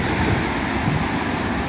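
Ocean waves wash continuously onto a white-sand San Diego beach, a steady broad roar of surf with wind rumbling against the microphone and no voices.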